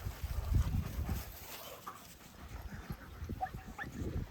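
A dog whimpers at a dog daycare, soft whines and faint yelps scattered over a quiet indoor background, with a few muffled barks and other small noises nearby.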